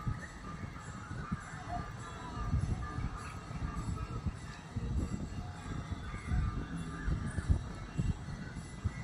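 Crows caw outdoors at a moderate distance as a flock of birds flies past, with several rough calls over a steady murmur of wind and background noise.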